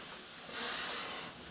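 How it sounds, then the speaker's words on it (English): Short nasal inhale as a person sniffs old 1980s electronics, a single close breathy sniff swelling at mid-clip, alone. "sniff them, because they do smell good."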